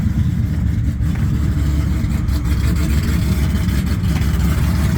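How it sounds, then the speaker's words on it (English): Mopar drag racing car at Maryland International Raceway, a loud, continuous low engine rumble with a rough, throbbing idle-like tone, heard close and alone without talk. "Hear that car?"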